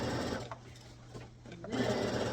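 A sewing machine back-stitches an Ankara fabric skirt where the thread broke: a continuous whir that dips briefly in the middle and then speeds up again, heard alone.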